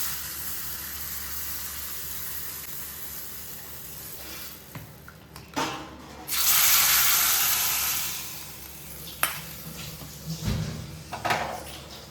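Hot tempering with kasuri methi poured into a dish, a burst of loud sizzling hiss that swells after a few clattering utensil knocks, then fades into stirring and scraping sounds.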